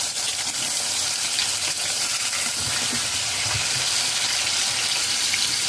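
Two hundred fifty grams of peeled prawns sizzle steadily in five tablespoons of hot white oil in a wok, a loud, continuous crackling hiss with no talk.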